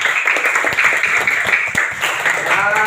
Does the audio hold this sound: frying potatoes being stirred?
no